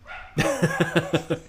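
A dog barks in a quick series of about six sharp, loud, close barks at an even rhythm, following a brief whimpering tone.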